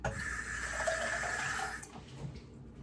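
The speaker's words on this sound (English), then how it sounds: "I'm going to add some water" Water pours steadily into a pot of homemade French onion soup for nearly two seconds, a rushing splashy stream that then stops, leaving quiet kitchen background.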